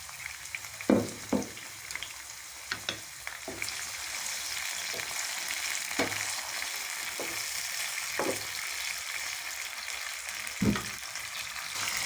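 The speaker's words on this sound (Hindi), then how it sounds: "अब हम इसमें डालेंगे ग्रीन चिली, सब्ज़ मिर्च और टमाटर का पेस्ट जो है वो हम इसमें ऐड कर देंगे।" Chicken fries in a pan with green chili, capsicum and tomato paste, giving a constant close sizzle. Sharp scraping stirs cut through at irregular intervals, roughly every second or two, and no one speaks.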